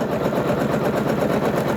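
A Janome Skyline S9 embroidery machine stitches a trapunto quilting design, giving off a steady, close mechanical whirr with fast rhythmic needle pulses that run without a break.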